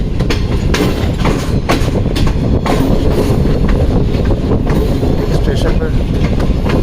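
The Tezgam Express passenger train runs toward a station on the Rawalpindi to Karachi line, its loud onboard rumble carrying steady clickety-clack wheel beats, with voices talking faintly underneath.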